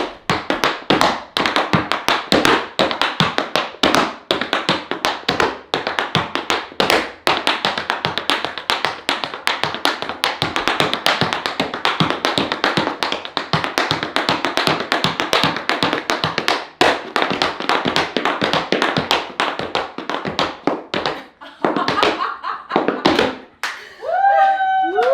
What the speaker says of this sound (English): People my age are not supposed to be tap dancing.